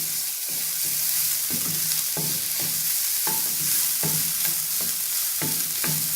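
A bread pizza curry mixture stirred in a frying pan, soft sizzling under a regular series of spoon scrapes and taps against the pan, close and steady.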